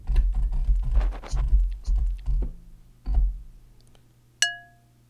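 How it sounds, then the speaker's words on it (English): A spoon strikes a cereal bowl for Reese's Puffs, several quick close clinks and knocks at first, then one sharp ringing ping that decays clearly before silence. "Spoon hitting the bowl."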